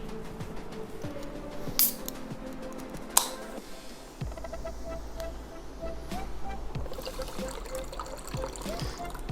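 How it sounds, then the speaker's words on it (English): Tonic water trickles softly into a cocktail in a margarita glass, a faint, quiet pour over low background hum with a few small clinks. "Add on top of this some tonic water."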